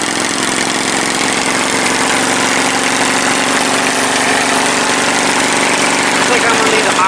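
A Briggs & Stratton 22hp Intek V-twin engine, one with blown head gaskets, runs steadily at a high idle, giving a loud, continuous mechanical drone with constant vibration throughout.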